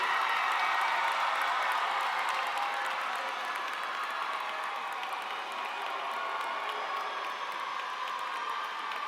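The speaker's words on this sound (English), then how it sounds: "Give them a loud round of applause for their support." Graduation crowd in a high school ceremony applauding steadily, a dense, even wash of clapping with scattered cheers and whoops from a large audience, moderately distant.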